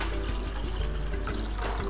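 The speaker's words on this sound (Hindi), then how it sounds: "इसके लिए मैंने पानी डाल रहा हूँ" Water poured steadily from a jug into a cooking pot for boiling rice, a continuous splashing, gurgling pour heard close up throughout with no talk.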